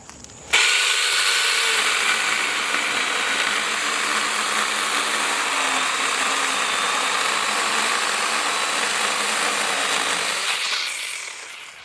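A cordless SeeSii pruning saw runs steadily through a dead pine tree, a loud continuous motor whine with buzzing cutting noise that starts abruptly and holds for about ten seconds before easing off.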